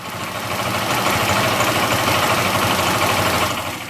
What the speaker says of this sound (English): You must tune based on the engine's idle sound.